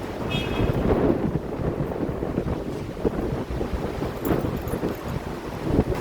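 Strong wind roars and buffets the microphone steadily throughout, loud and close, with no voices heard.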